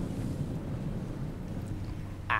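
Boat with 300 HP Suzuki engines cruising at 1,200 rpm at about 6 knots gives a steady low engine rumble under wind and water noise, with a brief louder gust near the end.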